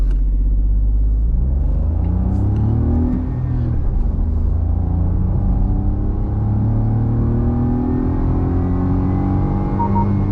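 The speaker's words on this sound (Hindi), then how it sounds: "अभी मैनुअल मोड में है, फर्स्ट गियर पे है, एक्सेलरेशन पैडल पूरा प्रेस है" A 2024 Maruti Swift AMT in manual mode pulls hard at full throttle in first gear, its engine note climbing steadily in pitch as revs build. The loud, close, continuous roar plays alone with no voices.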